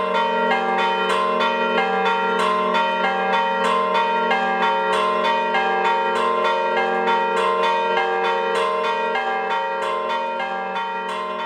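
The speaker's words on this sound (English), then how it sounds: "the clapper is pulled against a rope tied to the wall, and it means that one person can ring the three bells at once" Three old church bells are rung by one person pulling ropes tied to their clappers, one by foot and one with each hand. The loud, ringing peal strikes in a steady rapid rhythm, tones overlapping and sustaining without pause.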